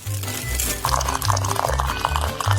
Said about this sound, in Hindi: फिर उबलते हुए पानी को डालेंगे